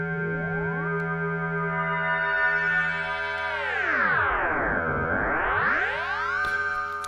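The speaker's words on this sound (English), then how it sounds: "So if you just use the sine wave, it will sound like this." A sine-wave synthesizer tone from the Digital Max for Live device, frequency-modulated by a second oscillator, sounds alone as a steady harmonic drone whose pitches sweep down and back up in a smooth arc.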